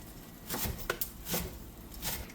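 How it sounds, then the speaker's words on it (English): A knife roughly chops half a bunch of fresh cilantro on a cutting board, giving about four soft, quick strokes close by with no talking. "I'm going to roughly chop up 1/2 of a bunch of cilantro"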